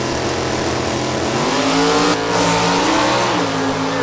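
Classic drag racing car with a high-winding 265 cubic inch small block engine accelerating hard down the strip at an NHRA Division 3 event at Beech Bend Raceway, a loud, continuous roar with rising engine pitch and no talk.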